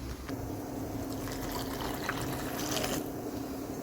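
Water pours steadily over finely chopped, washed green garlic to soak it, a continuous trickling and splashing that runs at an even level throughout, with no speech.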